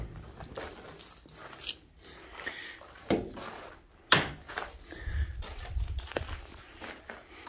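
The double rear swing door of a 6x12 enclosed trailer is handled in a few sharp knocks and clunks, the loudest at about three and four seconds, followed by softer rattling and low thumps nearby.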